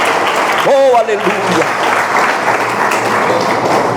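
Church congregation applauding steadily under a loud voice, with a sung or shouted exclamation rising over the clapping early on.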